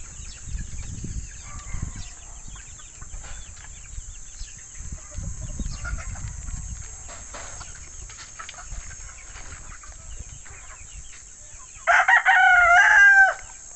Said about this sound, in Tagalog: Tingnan ho ninyo yung mga sisiw natin.